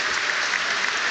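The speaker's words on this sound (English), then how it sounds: "there's a round of applause from the fans here at Hillsborough" Applause from football fans in the stands at Hillsborough during a Sheffield Wednesday versus Hull City Championship match, a steady, dense clapping that fills the whole short stretch without pause.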